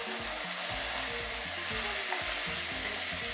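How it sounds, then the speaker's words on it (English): Onions and finely chopped garlic sauté in a pan with a loud, steady, close sizzle and crackle that keeps going with no pause. "We want to saute our onions until they're golden brown"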